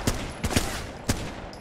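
Gunfire in the multiplayer VR shooter Pavlov VR: three or four sharp, close shots in a loose burst, with a short lull and more shots after, and no talking.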